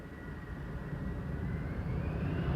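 An Airbus A330-300 arriving at Schiphol on the Polderbaan runway, a steady broad jet roar from a distance that slowly swells louder, with a faint rising whine toward the end.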